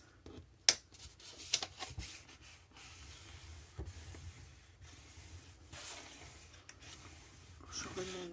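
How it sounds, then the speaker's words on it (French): Paper folds being scored with a bone folder during a handmade mini album project: soft intermittent rubbing and scraping strokes with a few sharper taps, close and fairly quiet, with no talking. "maintenant je vais venir marquer mes plis"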